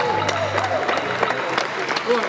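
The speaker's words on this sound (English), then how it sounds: "Let's give a round of applause, ladies and gentlemen" An audience at a provincial awards ceremony in Harare gives a round of applause, steady scattered clapping with some voices mixed in throughout.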